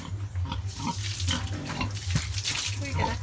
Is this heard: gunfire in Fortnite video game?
no